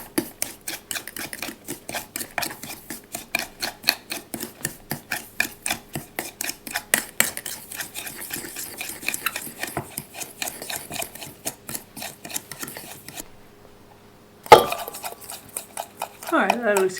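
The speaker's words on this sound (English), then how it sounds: "we'll just take a fork or whatever's handy for you," A fork briskly mixes a brown sugar mixture in a bowl for an apple cobbler, a fast rhythmic scraping and tapping that runs steadily for many seconds, pauses, then resumes with a louder clunk and a few final strokes.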